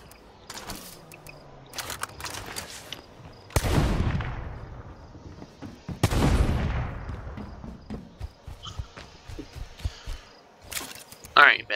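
Sharp, loud gunshots from an untactical weapon in the zombie survival game State of Decay, about two big booming reports several seconds apart amid scattered smaller pops and game sounds, with a voice talking.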